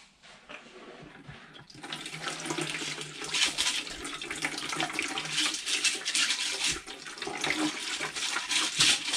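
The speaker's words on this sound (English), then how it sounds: "Then it's got a little bit of tap water here." Tap water runs and splashes steadily into a National Geographic Hobby Edition rock tumbler barrel indoors, a continuous close hiss that builds after the first couple of seconds and holds to the end.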